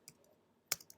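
A few sparse, crisp keystrokes on a computer keyboard, close and quiet, with a short pause between taps and a quick double press near the end.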